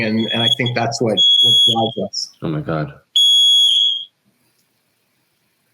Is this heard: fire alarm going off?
yes